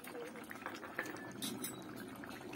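Vegetables and bitter gourd simmer in a pot for a vegetarian shukto, giving a steady soft bubbling boil with faint clinks of a utensil against the pot close by.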